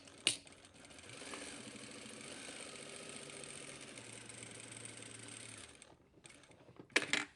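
Sewing machine stitching a seam on fabric with a back tack, a steady close mechanical whir running for several seconds before stopping, with short clicks at the start and end.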